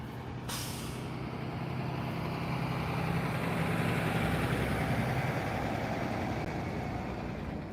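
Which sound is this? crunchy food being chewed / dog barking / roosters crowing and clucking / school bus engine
school bus engine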